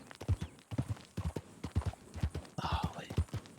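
Horse hooves clip-clop in the video game Red Dead Redemption, a steady rhythmic run of close hoofbeats with a few soft background sounds.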